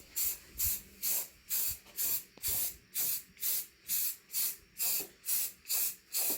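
Spray can laying a primer coat on a Coleman mini bike: about a dozen evenly spaced, close, loud hissing bursts, each roughly a third of a second, with short quiet gaps between.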